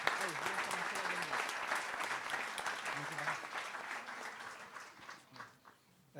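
Applause from an audience at a prize ceremony for a short-story writing contest in Allauch, France, sustained clapping that stays strong for several seconds, then thins and fades toward the end.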